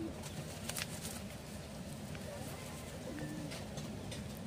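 Pigeons coo softly in a steady, continuous ambient wash, with someone speaking over them. The birds are being prepared for a bath with Zero Mite shampoo.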